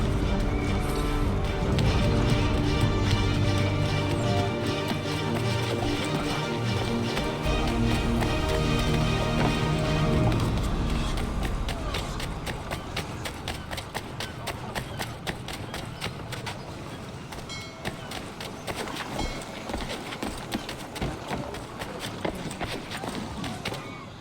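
Horses galloping in the video game Assassin's Creed III, heard as a dense run of clip-clop hoofbeats over a loud, busy game soundscape that thins after the first half.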